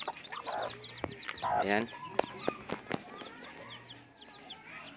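Newly hatched Shamo Asil chicks give faint, high, repeated cheeps alongside a few low clucks, while someone talks over them.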